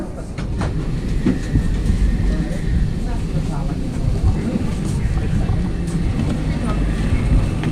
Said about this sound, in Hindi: चार्ल्स डी गॉल ये वाली ट्रेन थी मेरी, जिसको RER बोलते हैं